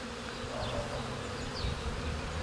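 Honeybees buzz thickly at a weak hive colony during pollen-gathering season, a dense, continuous hum of many insects close by with no voices.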